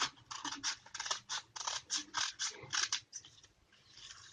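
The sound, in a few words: scissors cutting buckram cloth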